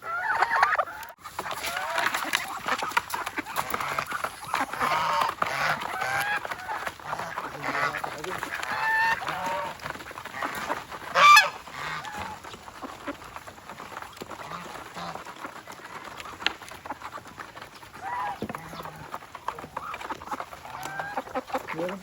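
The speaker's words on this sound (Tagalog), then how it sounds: "dito naman tayo sa mga makukulit na pabo" Turkeys on a farm gobbling and clucking continuously, with overlapping bird calls at moderate distance and a brief louder outburst midway, while a person speaks at times.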